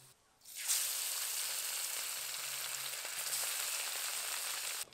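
Spiced river fessa fish fry in a pan with a steady bright sizzle that starts suddenly and holds continuously, close and moderately loud, with no talking.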